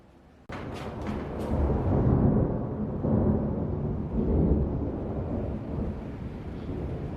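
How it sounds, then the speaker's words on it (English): Thunder rolls after a sharp crack, a long deep rumble swelling and fading in several waves over several seconds, loud and close, with no talking. "I'll just wait for the thunder to finish."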